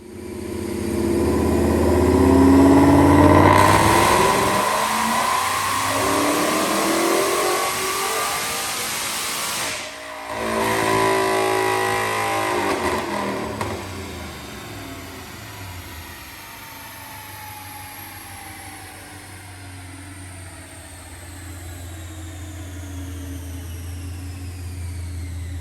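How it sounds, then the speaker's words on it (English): A Roush Phase 2 supercharged 2018 Mustang GT engine roars through a dyno pull, revving loud and rising, then drops off abruptly and settles into a steady idle, with no talking. "let's watch a dyno pull"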